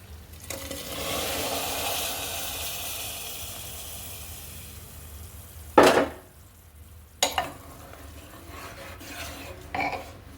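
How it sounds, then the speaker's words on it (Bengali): Ingredients tipped into a hot pan for Japanese beef biryani, giving a long steady hiss of sizzling that slowly fades, followed by a few sharp clatters and scrapes of a utensil against the pan. "এবার আমি এগুলো একটু ঢেলে দিচ্ছি।"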